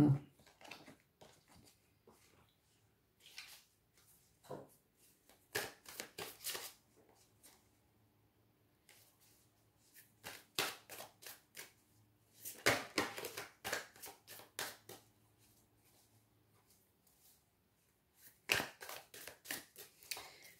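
Darkwood oracle cards shuffled in quiet bursts of crisp riffling and flicking, with pauses between the runs of shuffling.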